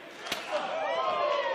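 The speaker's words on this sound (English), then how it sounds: "Chop across the chest." A wrestling chop lands across an opponent's chest at a Ring of Honor show in Las Vegas, one sharp slap standing out briefly over a steady, noisy arena crowd.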